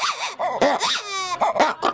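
A black and white ruffed lemur calls in a quick series of close, loud, yelping and whining barks, with one sustained harmonic wail in the middle.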